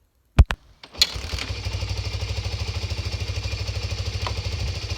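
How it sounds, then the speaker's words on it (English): A four-wheeler ATV starts after a few sharp clicks and cranks, then settles into a close, steady, chugging idle that thumps in a regular low pulse, with no talking. "Alright, I'm going to start up my four-wheeler."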